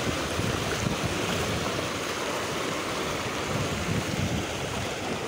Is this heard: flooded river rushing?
yes